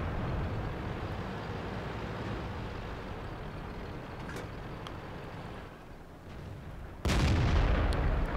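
Tank cannon fire in World of Tanks, with a heavy rumbling battle din that dips briefly before a loud, sudden boom near the end.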